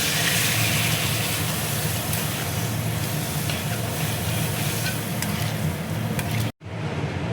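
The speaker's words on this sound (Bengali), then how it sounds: "এবার আমি জল দিয়ে দিচ্ছি।" Water goes into a pan of spiced taro (kochu) masala, setting off a loud, steady hissing sizzle that cuts out abruptly for an instant, then resumes more quietly.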